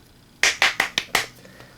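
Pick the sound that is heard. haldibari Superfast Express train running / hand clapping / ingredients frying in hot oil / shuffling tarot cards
hand clapping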